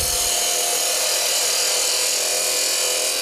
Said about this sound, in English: Use my parting tool.